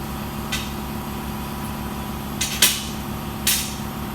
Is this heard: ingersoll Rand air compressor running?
yes